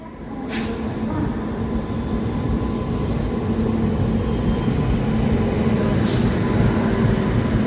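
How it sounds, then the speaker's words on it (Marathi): A WAP-7 electric locomotive of Lallaguda shed hauls a train into a station on the Latur–Bidar route, a loud continuous roll of wheels with short bursts of hissing air near the start and end. "प्लॅटफॉर्म नंबर दोनवरती कोणती तरी ट्रेन येत आहे"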